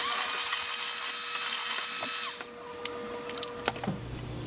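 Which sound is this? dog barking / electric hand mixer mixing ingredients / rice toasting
electric hand mixer mixing ingredients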